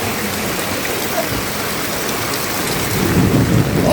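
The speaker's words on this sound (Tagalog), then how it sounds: "So ilang oras na lamang ay 12 hours na ang pag-ulan" A loud, unbroken downpour during a typhoon, hours long and flooding the road, roars steadily, with a deeper rumble swelling toward the end.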